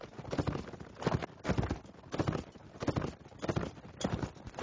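Cavalry horses gallop in a strategy video game, their hooves drumming in quick rhythmic bursts that repeat steadily, with a steady background hiss.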